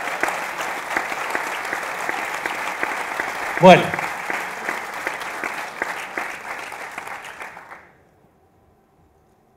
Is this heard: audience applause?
yes